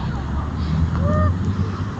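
A duck or goose at a park gives a brief nasal honk in the middle of steady outdoor wind and rumbling background noise, fairly close and moderately loud.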